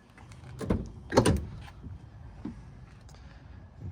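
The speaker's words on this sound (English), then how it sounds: "Sounds like I need a door brake on that door." A BMW E66 750Li rear door is opened and shut, giving a couple of quiet thunks and a latch click close by in a calm setting, with no talking.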